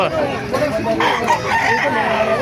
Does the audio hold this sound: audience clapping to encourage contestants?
no